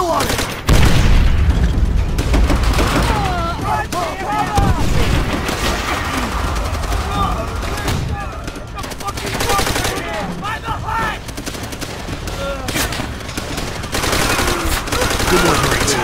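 Gunfire and explosions in a Call of Duty: World at War beach battle, with dense continuous rifle and machine-gun fire and booming blasts throughout, loud and close, with shouted voices mixed into the chaos.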